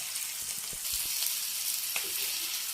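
Onions and green chilies frying in a pan for a cauliflower fry make a steady, close sizzle with a few soft stirring knocks underneath.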